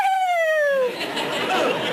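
A person on a television talk show imitates a bird call with a single high, whistling descending note lasting under a second, followed by a burst of studio audience laughter.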